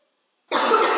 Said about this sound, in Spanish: Voy a empezar a toser.